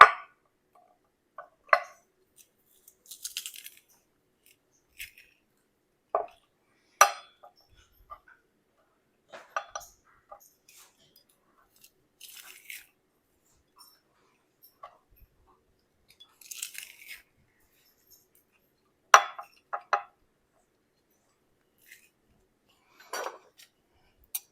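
Garlic being pressed in a home kitchen, heard as sparse, faint clicks, squeaks and crunches scattered across a quiet stretch, with occasional utensil taps and no talking.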